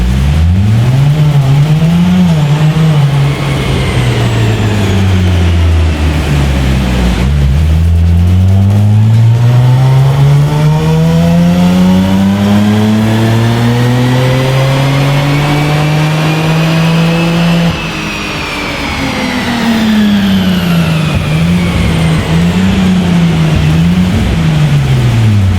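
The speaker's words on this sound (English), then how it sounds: "It's time to get it strapped back down to our dyno to find out what all of those upgrades have done to the performance of this" An upgraded Jaguar XE S V6 on a dyno roars loudly through long rising and falling pulls, its engine note sweeping up to high revs, dropping back and climbing again, with no talking over it.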